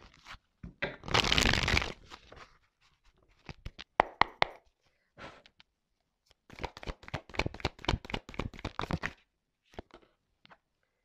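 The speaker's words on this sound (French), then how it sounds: "on va prendre encore quelques petites cartes là" Tarao cards shuffled and laid out by hand in a quiet room, a dense burst of riffling papery rustle followed by scattered dry snaps and taps, then another run of quick card flicks close to the microphone.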